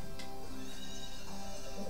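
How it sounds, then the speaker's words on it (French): A foal whinnies in the Story of Seasons farming game, a faint neigh that sits under steady game music, with no talking over it. "là je vais aller voir mon poulain"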